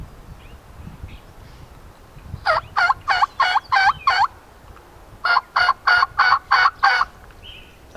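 A hunter works a turkey call in two quick series of about six sharp, raspy yelps each, imitating a hen turkey, loud and close with a short pause between the runs.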